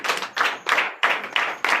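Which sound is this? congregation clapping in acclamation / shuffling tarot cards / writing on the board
congregation clapping in acclamation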